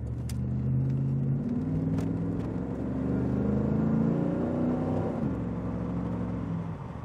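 A 1987 Pontiac Firebird GTA pulls hard under acceleration, its engine a steady, loud rumble that climbs in pitch and holds close throughout, with no voices over it.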